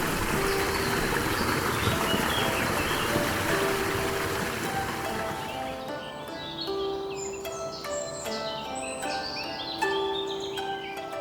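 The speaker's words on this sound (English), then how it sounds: "Among the pine forests, multi-tiered waterfalls cascade down in white torrents, adding vibrant sounds to the tranquil atmosphere." Multi-tiered waterfalls cascade in white torrents through a pine forest, a steady broad rushing wash that runs loud at first, then eases as scattered birdsong and chirps rise over the water.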